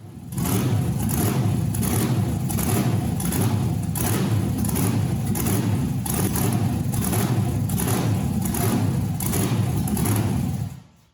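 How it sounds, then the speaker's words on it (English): A rock buggy engine runs loud and close, revving steadily with a rhythmic surging pulse throughout, then cutting off abruptly at the end. "you can see I stepped on the gas pedal and it developed a bit of a surge"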